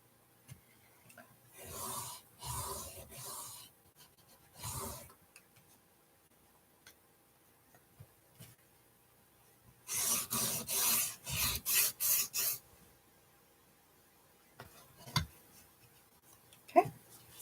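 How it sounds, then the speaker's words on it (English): A pencil draws straight lines along a ruler edge while floorboards are marked out on a miniature mouse house floor. Two quiet, close clusters of short scratchy strokes are separated by near silence. "I'm just going to draw a straight line. Maybe go over it a couple times."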